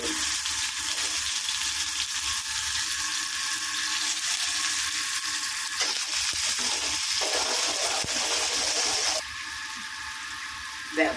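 Onion tipped into hot oil for a Tamil kootu, after mustard seeds, dal and garlic, sending up a loud, continuous close-up sizzle that shifts and flares partway through.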